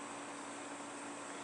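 A Corona CW-16A window air conditioner runs with a steady, even hum and airy whoosh, constant and fairly close, with no other sounds over it.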